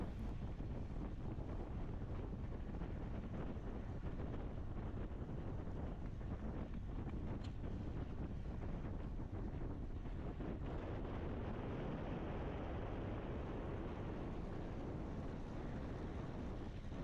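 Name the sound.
headwind blowing while cycling in a race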